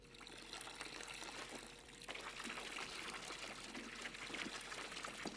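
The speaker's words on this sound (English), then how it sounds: "let's pour this in here" Liquid pours into a fermentation container in the Brewmaster beer brewing simulator game, a continuous splashing, trickling stream that grows slightly fuller partway through and carries on steadily at moderate volume.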